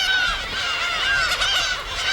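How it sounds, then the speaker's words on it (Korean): Chinese egrets calling in flight over an uninhabited island, a loud run of harsh, honking, nasal squawks overlapping densely for a couple of seconds. "노랑부리 백로다"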